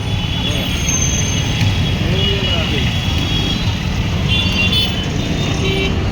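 Busy city road traffic roars close by in heavy congestion, engines droning continuously while a car horn toots over the din.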